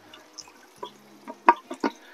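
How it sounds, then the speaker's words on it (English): Water trickles and drips from the pump of a Lettuce Grow hydroponic Farmstand, a handful of close, soft splashing plinks over a quiet low hum. "So now you can see the water is coming out of the pump properly."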